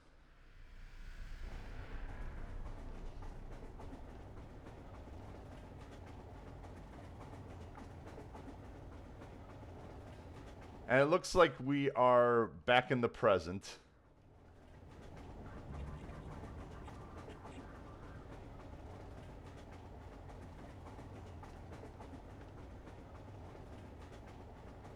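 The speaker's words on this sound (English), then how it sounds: "And now we're warped onto the back of a razor train." A Combine razor train in the Half-Life 2 mod Entropy Zero rolls along its rails with a steady, continuous rumble, interrupted midway by a loud, harsh burst lasting a few seconds before the rumble resumes.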